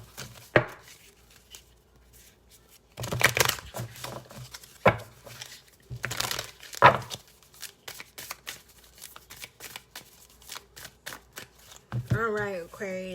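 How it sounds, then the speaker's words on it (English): Tarot cards are shuffled in quick riffling bursts, close and crisp, with pauses between them and a person talking near the end. "We're going to do one more shuffle."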